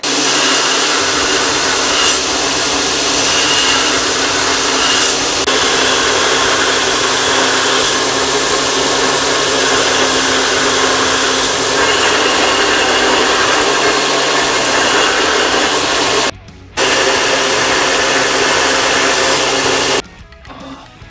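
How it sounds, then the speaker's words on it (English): A grinder works a forge-welded san mai knife blade in a loud, continuous close whine with steady abrasive roar, broken near the end by two brief drops in sound, no talking. "let me grind and that'll tell me if I got any solid welds, right?"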